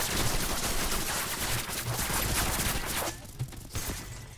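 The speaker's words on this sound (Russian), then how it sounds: "мы все еще продолжаем стреляться" Dense bursts of gunfire in the Roblox game Ragdoll Universe crackle continuously, loud and rapid, easing off briefly near the end before a few more shots.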